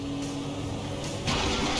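Yacht engine in a video game sputtering and failing, a steady broadband mechanical rumble with a louder surge near the end, no talk over it.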